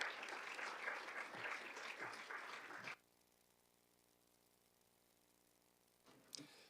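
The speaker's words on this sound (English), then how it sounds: "With a round of applause," Applause from members of a youth parliament chamber, a dense roll of clapping that stops abruptly, followed by a quiet hum and a brief burst of renewed noise at the end.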